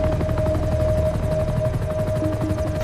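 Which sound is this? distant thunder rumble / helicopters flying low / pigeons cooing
helicopters flying low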